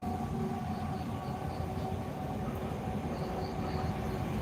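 A train rolls past with a loud, steady rumble and a continuous low roar of wheels on rails, broken by faint tonal hums throughout, with no voices.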